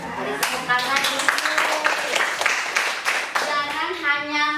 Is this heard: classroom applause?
yes